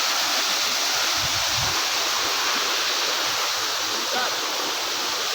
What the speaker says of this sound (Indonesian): Nah, air terjunnya di sini.